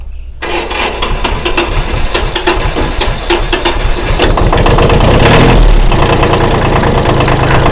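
A used Kubota L2201 tractor diesel engine cranks and catches after glow-plug preheating, then settles into a loud, steady, rough idle that rises slightly in the last few seconds, close by.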